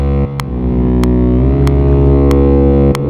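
A loud, sustained instrument tone with a heavy distortion effect applied on an instrument track in Studio One, buzzing thickly with faint repeating pulses on top.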